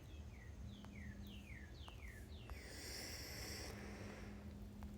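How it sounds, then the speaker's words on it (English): Outdoor birdsong with repeated descending chirps, a rhythmic run of clear calls followed by a brighter trilling burst, moderately distant over a steady low background hum. "You'll have to listen to the birds while I update this"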